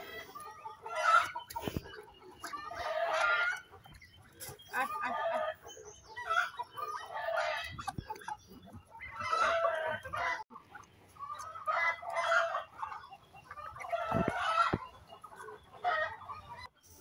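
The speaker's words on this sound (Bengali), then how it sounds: "এদিকে আবার আমার ছাদের উপরে মুরগিরা দেখেন কিভাবে ডাকাডাকি করতেছে" Chickens on a rooftop call for food in repeated bursts of clucking and squawking, several birds close by, with brief gaps between calls and a faint thump or two.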